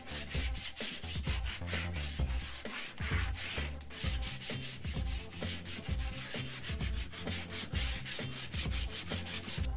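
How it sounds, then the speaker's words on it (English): Heavy-duty sandpaper is rubbed hard over the chipboard cabinet of an old Laney guitar amplifier, giving a continuous close, loud scraping in steady back-and-forth strokes with no talk. "I sanded it down with some heavy duty sandpaper to get rid of all the bumps and abrasions"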